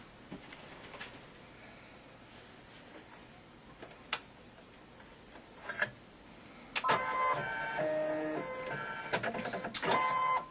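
A quilting machine stipples at low volume, giving a soft steady mechanical whir with scattered ticks and a busier, denser patch of clicking toward the end.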